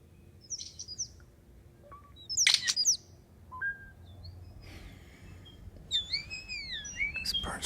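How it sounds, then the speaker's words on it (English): A songbird gives varied electronic-sounding chirps, whistles and descending sweeps resembling a droid's beeps, in scattered bursts at close to moderate distance over a faint low background hum. "This bird's watching a lot of Star Wars."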